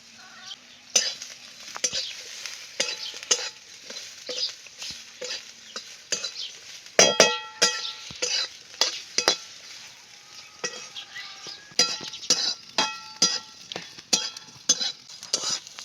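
A filling for puran poli roasting in a pan while being stirred, with repeated sharp scrapes and clinks of a utensil against the metal over a quiet sizzle, irregular and close, no speech.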